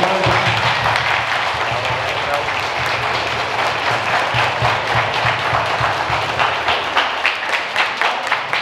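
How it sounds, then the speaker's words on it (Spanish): A crowd gives loud, sustained applause for Irina at a celebration in Guadalcázar, dense clapping holding steady throughout with voices mixed in. "vamos a darle un caluroso aplauso a Irina"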